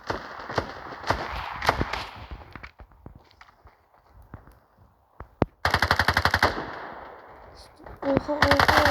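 Gunfire in the mobile shooter Standoff 2: scattered single shots and footsteps at first, then a loud, rapid automatic burst of machine-gun fire, followed by more shots near the end.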